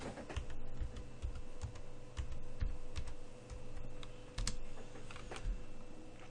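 Fingers type on a Windows computer keyboard in soft, irregular clicks and taps over a faint steady hum, with no voices.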